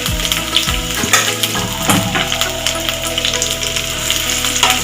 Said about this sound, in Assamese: এয়া মই এনেকৈ মিডিয়াম ফ্লেমত 3 মিনিটমান ফ্ৰাই কৰি আছোঁ।